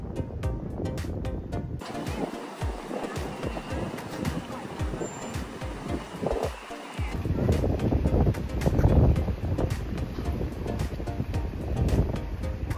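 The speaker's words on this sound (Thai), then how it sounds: "ลมแรงสุดๆคือจะมีลมพัดมาตลอดเลย" Strong sea wind blows steadily across a pier on Koh Larn island, Thailand, making a loud, continuous broadband rush with gusty swells and low rumbling buffets against the microphone.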